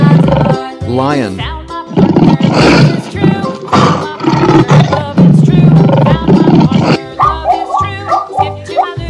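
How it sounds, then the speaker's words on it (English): A lion roars and growls in loud, rough bursts close by, mixed with other grunting animal calls, the sounds coming in irregular waves over several seconds. "Lion."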